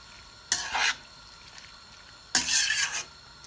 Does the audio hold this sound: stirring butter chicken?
yes